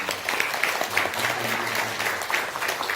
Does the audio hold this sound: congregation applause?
yes